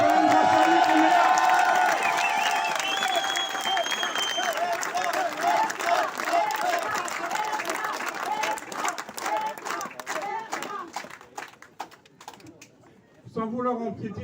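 Applause from a family audience at a French cheque-presentation ceremony: dense, sustained clapping that stays steady for about twelve seconds, thins out, then briefly picks up again, with crowd murmur mixed in.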